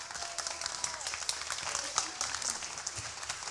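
Audience applause at an entrepreneurship pitch event, a moderate, fairly distant wash of clapping with a faint voice or tone underneath, steady for a few seconds.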